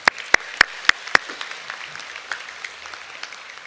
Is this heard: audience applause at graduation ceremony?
yes